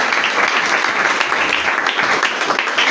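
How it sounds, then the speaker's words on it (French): A church congregation at a Sunday celebration service claps loudly and continuously, a dense wash of applause filling the room without pause. "Acclamons très fort pour la parole de Dieu."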